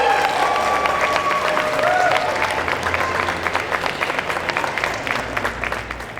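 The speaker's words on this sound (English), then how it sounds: "A round of applause as we welcome our groom." A crowd applauds to welcome the groom at a staged cult wedding ceremony, sustained clapping with some cheering that fades slightly toward the end.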